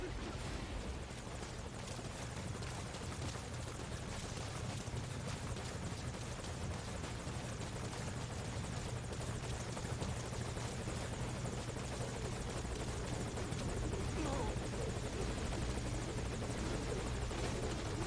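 A helicopter in the video game Metal Gear Solid V hovers nearby, its rotor producing a constant low pulsing drone and rushing wash that stays loud and unbroken, with occasional speech beneath.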